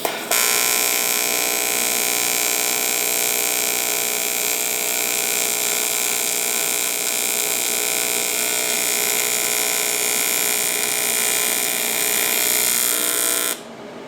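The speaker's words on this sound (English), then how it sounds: "So I'm going to go ahead and lay these final welds" Welding stitches on a Moroso weld-in oil pan baffle, heard as a steady buzzing electrical hum with a constant crackle, held loud and unbroken for most of the clip before cutting off near the end.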